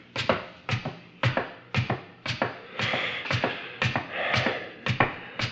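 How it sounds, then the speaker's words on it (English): Footsteps descend a staircase as a radio comedy sound effect: about ten crisp, evenly spaced taps, close and fairly loud, with no voices. "Down these stairs, Fechtenberger"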